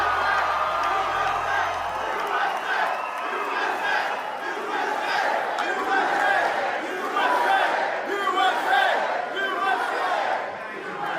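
A large crowd chants and cheers at a Trump appearance at a Faith and Freedom Coalition conference, a steady, loud mass of voices with rhythmic shouting that holds for the whole stretch.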